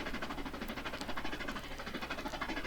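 A Welsh Highland Railway train runs steadily between Porthmadog and Rhyd Ddu, its faint, even rumble carrying a light rhythmic clatter of wheels on the track throughout.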